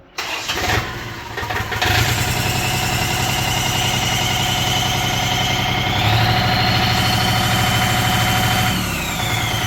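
A 24 hp twin-turbo engine on a three-system crop-sprayer truck catches with a sharp start, then runs at a steady, loud, close idle with a deep rumbling throb and a thin whine on top, with no one talking.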